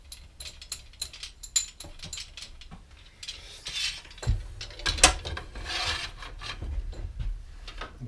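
Clamps being tightened on a wooden three-legged stool in a workshop, giving close ratcheting and rubbing mechanical clicks in irregular bursts, with louder handling knocks and scrapes toward the end and no speech.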